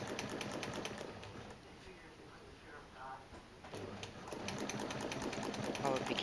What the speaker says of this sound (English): you just keep your foot against the ruler to stitch along the length